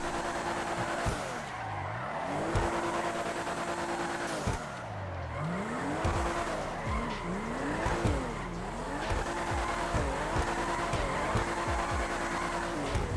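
A car drifting in GTA Online, engine revving and falling in repeated swoops as tires squeal and skid through corners, loud and continuous with no talking.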